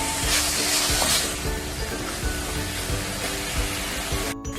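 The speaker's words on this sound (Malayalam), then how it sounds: "ഇനി നമുക്കതൊന്ന് നന്നായിട്ട് വഴറ്റിയെടുക്കണം." Onions sautéing with salt in a pan for a restaurant-style chicken curry give a steady, close sizzle with soft stirring scrapes, and a low hum runs underneath throughout.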